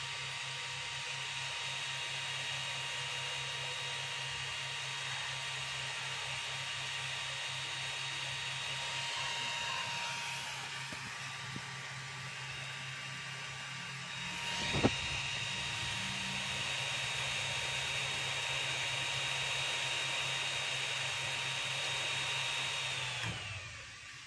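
A 3D printer runs with a steady whirring fan hum and faint motor tones, continuous at moderate level, with a single sharp click midway before the whir winds down near the end.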